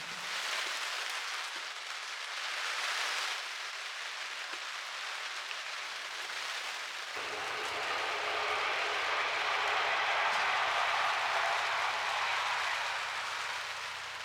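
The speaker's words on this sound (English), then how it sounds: "it started to rain again" Steady rain hissing down on a narrowboat journey, broadband and continuous, growing slightly heavier midway with a low rumble joining underneath; no voices.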